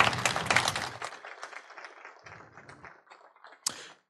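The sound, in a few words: applause for the presenters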